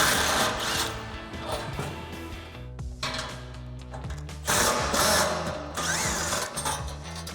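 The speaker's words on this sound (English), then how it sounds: "So we'll get that same 13mm socket and pop these out." Ratchet with a 13mm socket backing out rear bumper bolts on a Ford F-150, rapid clicking bursts broken by short pauses, loud and close, no talking.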